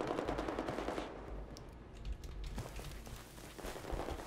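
Rapid automatic PDW gunfire from the video game Battlefield 4 multiplayer sounds as dense bursts of shots, heavier at the start, easing briefly, then resuming with scattered rounds.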